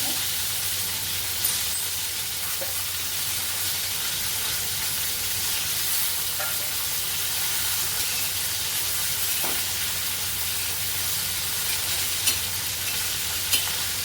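Chana dal and green masala roasting in a pan for stuffed brinjal, a continuous even hiss of frying with occasional faint spoon taps, steady and close throughout, no voices.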